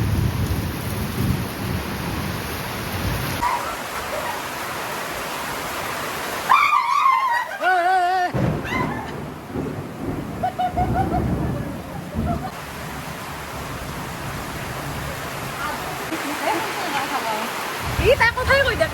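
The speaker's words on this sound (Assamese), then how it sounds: "বৰষুণটো চাওকচোন গোটেই ভাহি গৈছে" Heavy rain pours down steadily with rumbles of thunder during a family picnic, while people talk throughout over the downpour.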